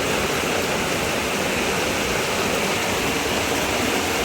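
Heavy monsoon rain pours down steadily near a village home at paddy-sowing time, a dense, loud and unbroken hiss with no voices.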